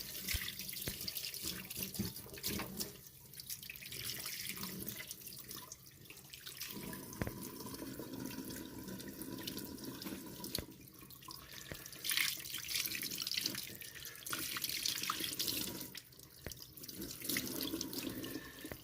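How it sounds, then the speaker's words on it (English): Tap water runs steadily while the primary filter of a Dyson DC17 Animal vacuum cleaner is rinsed and repeatedly squeezed under it, a continuous splashing and gushing with uneven surges and no talking. "Just rinse it and squeeze it repeatedly until the water starts to come out clear."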